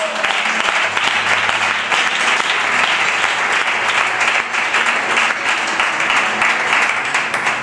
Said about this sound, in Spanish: Aplaude más fuerte para Dios.